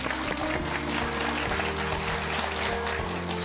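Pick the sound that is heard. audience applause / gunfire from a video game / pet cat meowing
audience applause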